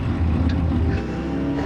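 A motorcycle with a Yamaha CP2 parallel-twin engine runs steadily, a loud, close, continuous low drone with a faint rev swell, alone without talk.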